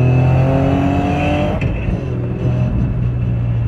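A tuned 600bhp Toyota GR Yaris pulls hard under load, its engine note droning loud and close with steady harmonics before a brief shift-like break around midway, then continuing its hard acceleration.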